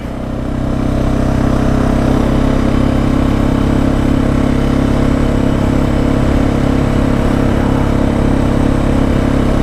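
A Suzuki DR650 motorcycle engine in first gear, stroking out at high revs, holds a loud, steady, close drone with a strong low rumble after a brief rise at the start.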